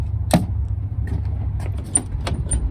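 Keys jangle and click against a car door lock, sharp metallic rattles and taps close by, a few separate bursts over a low background rumble.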